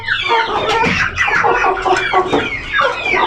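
Ameraucana pullets cluck and chatter close by, a busy overlapping run of short calls from several birds with no pause.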